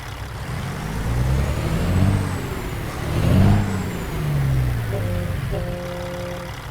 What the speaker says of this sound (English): I'm going to fire the engine up so you can listen to this thing.